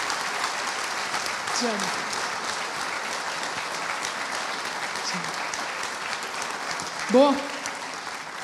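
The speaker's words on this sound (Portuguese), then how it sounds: "peço a ele uma calorosa salva de palmas" Warm audience applause for Farley at a Brazilian theatre event, a steady dense clapping that runs throughout at moderate level while someone speaks over it.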